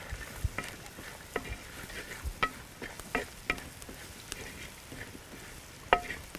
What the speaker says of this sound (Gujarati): અને સીધો જ આપણો જે રોટલાના ટુકડા છે એ બી આપણે આમાં નાખી દઈશું અને ફરી પાછું એકવાર મિક્સ કરી લઈએ.